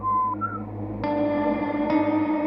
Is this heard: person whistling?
yes